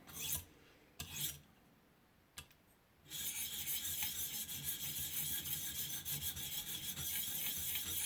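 A knife blade is sharpened on a ViperSharp sharpener, with a few short scrapes and a pause giving way to a steady, continuous rasping grind that runs close and loud to the end.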